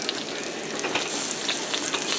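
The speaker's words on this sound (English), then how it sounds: "Some little bacon bits. Still cooking in the frying pan." Homegrown bacon bits frying in a pan, a steady, dense crackling sizzle heard up close and alone throughout.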